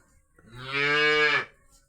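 A cow or calf gives a single drawn-out moo on a farm, loud and close, lasting about a second alone with quiet around it.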